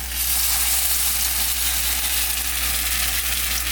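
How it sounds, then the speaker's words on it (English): Corn fritters sizzle in a pan that may be too hot, a steady bright crackle and hiss holding evenly throughout at close range, with no one speaking. "We're just going to let them fry up."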